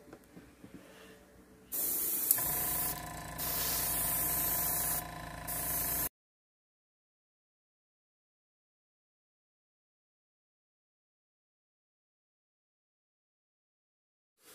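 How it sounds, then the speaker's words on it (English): A spray can of white spray paint hisses in a loud, steady burst for a few seconds with brief pulses while customizing a Jordan 4 sneaker, then cuts off into silence. "So this is our last spray for the white."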